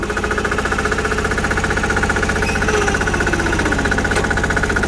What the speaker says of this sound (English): only 6 horsepower diesel and another Transaxle shot